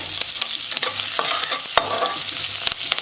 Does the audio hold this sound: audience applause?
no